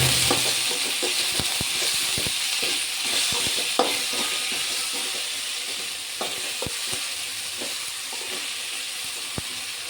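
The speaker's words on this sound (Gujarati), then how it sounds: "હવે તેને હલાવી લઈશું." Steady hissing sizzle of food frying in a pan, with scattered scraping clicks from a spoon stirring, no voices.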